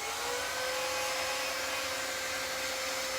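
A handheld dryer blows steadily on a chalk-painted pumpkin door decoration, a loud, continuous whirring hum with a faint high whine, unbroken for several seconds.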